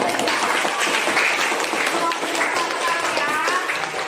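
A classroom of students clapping for a classmate during a trigonometry lesson, a steady fairly loud patter of many hands throughout, with some voices mixed in.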